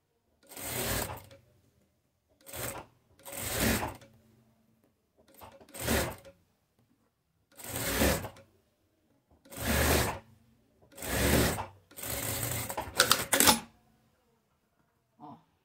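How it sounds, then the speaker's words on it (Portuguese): A sewing machine stitches the narrow placket strip on a men's shirt, running in about nine separate short bursts of motor whir with quiet pauses between them. "Vira ela aqui do direito e já faz a barrinha um pezinho de máquina."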